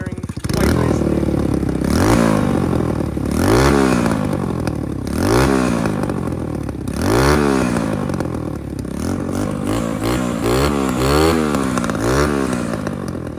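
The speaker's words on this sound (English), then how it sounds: "Blip again, she's backfiring quite nicely." A Chinese dirt bike engine with a freshly tuned carburetor revs loud and close in repeated rising and falling blips, crackling with backfires between the throttle bursts.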